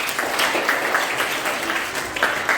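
School quiz audience clapping for a competing house team, continuous crowd applause at a steady moderate level from start to finish.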